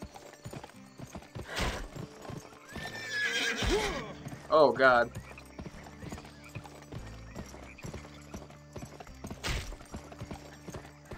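A horse in the Xbox 360 video game Gun trots with steady clip-clop hooves and lets out a couple of loud neighs and whinnies, while someone speaks briefly in between.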